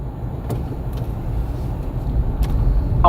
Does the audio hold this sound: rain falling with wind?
no